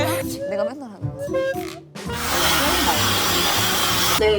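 A hair dryer drying freshly washed, conditioned hair. A voice talks over a low hum for the first two seconds, then the dryer blows alone as a steady, loud, close rush of air.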